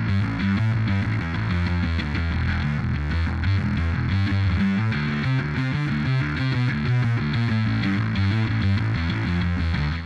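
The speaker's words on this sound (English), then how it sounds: "you can and should use guitar pedal for your bass tones" A bass guitar runs through a distortion guitar pedal, playing a continuous loud, gritty riff of fuzzy low notes with no pauses, heard alone without talk.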